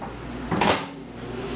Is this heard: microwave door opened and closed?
yes